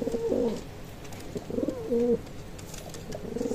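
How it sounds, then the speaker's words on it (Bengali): Salara teddy pigeons coo softly up close, three low throaty bursts spaced across a few seconds, with no talking. "সালারা টেডি কবুতর।"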